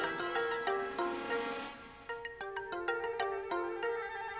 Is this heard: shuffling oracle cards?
no